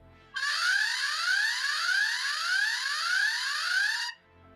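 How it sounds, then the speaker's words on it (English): A loud electronic security camera alarm siren wails alone for about four seconds, sweeping upward in rapid repeated rises, close and piercing, then cuts off abruptly. "There is also an alarm, which is both very loud and annoying to deter the intruders"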